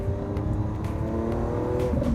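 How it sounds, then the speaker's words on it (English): A 2017 Lamborghini Aventador S engine revving with a steady, loud exhaust drone and some sharp pops, heard from inside the car during a ride. "it backfires like crazy. Literally every time you get off the throttle, every time you downshift, it sounds so good"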